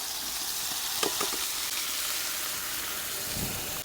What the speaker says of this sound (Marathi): कढईमध्ये तेल गरम झालंय आपण आता पेस्ट टाकून घेऊ याच्यामध्ये